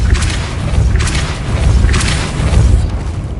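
In the Hogwarts Legacy video game, the Depulso spell is cast repeatedly, giving three loud, deep booming thumps roughly a second apart over a low rumbling background, with no speech.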